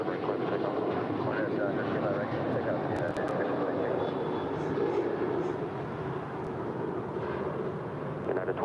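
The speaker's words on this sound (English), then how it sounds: "Our next departure, United Airlines Flight 2376 heading to Denver, Colorado." A United Airlines Boeing 737-900ER departing LAX for Denver, a steady broadband jet roar that holds at a constant level throughout, with a voice speaking over it.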